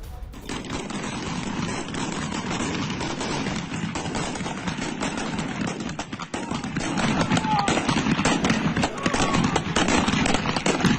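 Rapid, dense gunfire crackles throughout during a clash between Iranian forces and protesters in Kermanshah province, sharp overlapping bursts over a constant roar of crowd and street noise, growing louder near the end.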